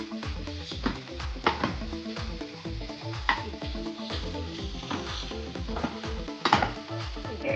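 Garlic, salt and curry leaves frying in oil for mango pickle, with a steady sizzle broken by repeated scrapes and clinks of a spoon stirring the pan, close and fairly loud throughout.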